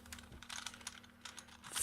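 A 3x3 Rubik's Cube being twisted face by face, giving quick, close plastic clicks and rattles in short bursts with no talking.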